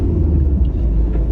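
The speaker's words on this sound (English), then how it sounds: "Hang on, we have got a wide load here." A wide-load lorry passing on the road close by, a loud, steady low rumble of engine and tyres filling the whole moment with no talk.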